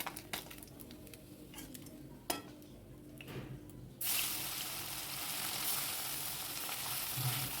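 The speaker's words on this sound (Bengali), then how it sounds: "এরকম করে আমি মাছগুলো 3-4 বারে সব আস্তে আস্তে ভেজে নেব" Fish frying in a pan, a quiet intermittent crackle at first with a few clanks, then a loud steady sizzle that swells suddenly partway through and holds to the end, with no talking.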